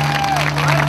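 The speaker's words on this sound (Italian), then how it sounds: "adesso io chiuderei con un applauso veramente doveroso" Audience applause at a memorial event in Coriano, Italy, a brief burst of steady clapping from a crowd, with someone talking over it.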